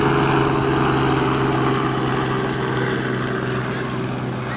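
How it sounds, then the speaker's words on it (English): Helicopter flying overhead at the beach, a loud, steady droning rotor and engine roar that holds for several seconds and fades slightly toward the end, with no talk. "Helicopter."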